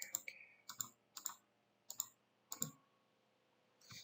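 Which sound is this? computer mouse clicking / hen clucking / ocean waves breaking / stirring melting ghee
computer mouse clicking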